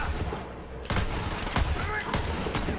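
Revolver gunshots in the Borderlands 3 video game, several sharp loud cracks at irregular intervals over a steady background hum of game noise.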